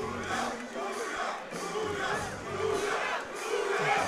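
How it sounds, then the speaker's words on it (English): Crowd cheering and shouting at an MMA fight night, a dense roar of many voices rising and falling over several seconds. "Big cheers from the crowd here for the fighter from MMA Ruckus."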